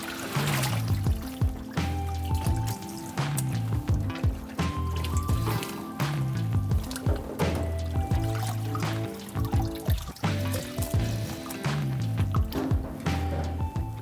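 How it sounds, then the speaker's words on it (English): Clear tap water runs and splashes as parts of a Dräger BG ProAir breathing apparatus are rinsed, a continuous trickling and pouring over a low rhythmic background throughout. "we want to rinse it in clear tap water"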